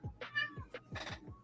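A cat meowing repeatedly at close range, several short, urgent mews in quick succession, some rising and strained, with no talk over them.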